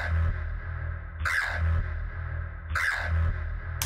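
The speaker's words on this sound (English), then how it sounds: "I also did this kind of preset I made in Gladiator that sounds like this." A custom preset on the Gladiator synthesizer plays a dense, sustained tone over a heavy low-end pulse. A bright, sweeping swell recurs about every 1.5 seconds, and the sound is loud and continuous with no talking.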